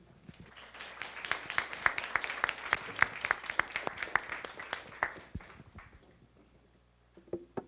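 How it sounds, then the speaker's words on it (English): An audience at a Taiwan Foreign Correspondents' Club event claps to welcome the Vice President on stage: a small crowd's distinct, fairly sparse claps for about five seconds before tapering off into quiet. "let's invite the Vice President on stage to speak with a round of applause"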